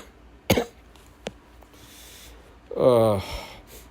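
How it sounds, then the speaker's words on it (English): A single sharp cough up close, followed by a short click and then a brief burst of throat sound near the end, with quiet room tone between. "Sorry about that cough."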